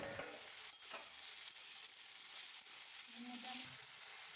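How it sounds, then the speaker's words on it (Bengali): Potatoes fry in a pan with a faint, steady sizzle, close by and quiet, with a few soft scrapes and clicks, and no one speaking. "ঢাকনাটা খোলার পর আলুটাকে ভালো করে ভেজে নিতে হবে।"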